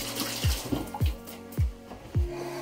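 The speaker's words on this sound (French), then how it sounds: "Juste me rincer un peu les mains." Hands rinsed under a running kitchen tap during homemade savory cake prep, water streaming steadily with four regular, heavier splashes about half a second apart, close and clear with no talking.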